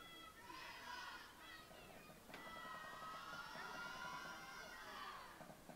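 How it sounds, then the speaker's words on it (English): Canadian supporters at a dog agility competition cheer and shout together in a sustained crowd roar, loud and close, with excited high voices swelling and holding for several seconds. "Canada is really getting good with that cheer"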